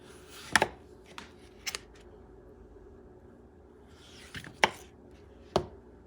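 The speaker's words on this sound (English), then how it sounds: "I'm going to slice them. Going to go relatively thin." A knife slices potatoes thinly on a cutting board, making a few sharp, isolated clicks spaced irregularly with quiet stretches between. The sound is close but soft overall.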